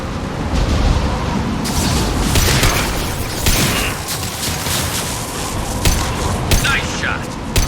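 Dense gunfire and explosions from a Mass Effect 2 firefight rumble continuously at high volume, with bursts of shots layered over heavy low booms and game voices mixed in.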